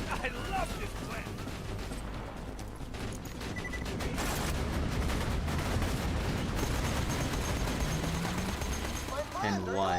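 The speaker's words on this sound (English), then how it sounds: "I hear explosions coming from the lighthouse." Explosions and rapid gunfire from combat in the video game Borderlands 2, near a lighthouse, forming a dense continuous barrage with a voice speaking briefly near the end.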